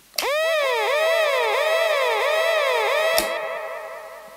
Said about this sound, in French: Donc on va se mettre en sirène normale, aiguë.